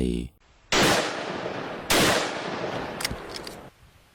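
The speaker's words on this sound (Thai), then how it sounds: "เสียงปืนลูกซองของทั้งสองดังกำปนาด" Two loud shotgun blast sound effects boom close by, a second apart, each trailing into a long echoing decay, followed by a few faint clicks.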